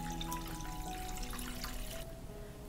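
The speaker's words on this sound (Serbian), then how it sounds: "Isipat ću vodu u šerpe do visine poklopca." Water pours steadily into a cooking pot packed with glass jars set on a cloth, a continuous splashing fill with a faint tonal ring that stops abruptly near the end.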